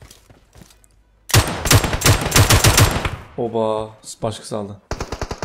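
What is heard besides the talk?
gunfire in video game PUBG Mobile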